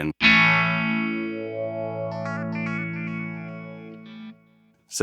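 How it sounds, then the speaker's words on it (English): An electric guitar through a Boss ME-90 multi-effects unit rings out a sustained distorted chord, while the delay is brought in with the expression pedal and adds repeating notes mid-way before the sound fades and cuts off. "when I put it up, you hear the delay"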